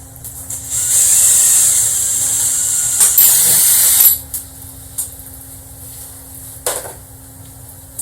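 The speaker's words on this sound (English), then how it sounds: "Alright, got the 4 holes drilled." A power drill whirs steadily for a few seconds, pauses briefly, then runs again before stopping while drilling four holes in a solid surface countertop, followed by a few faint knocks and clicks.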